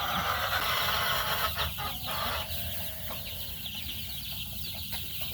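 Baby chicks in a brooder under a heat lamp on a cool night, a dense constant peeping and chirping over a steady hiss, with brief soft clucking calls.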